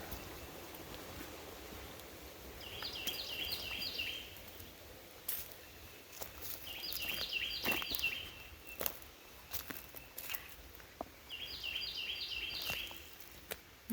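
A small bird outdoors on a hillside path repeats a quick, high trilling chirp phrase three times, fairly close, between quiet stretches of rustling footsteps and faint ambient background.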